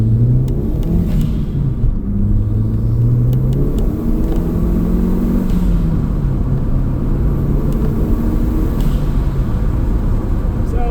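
A 2003 Ford Focus RS MK1 with 93k miles accelerates uphill in first gear, its turbocharged engine droning and rising in pitch with faint wastegate chatter under loud interior rumble.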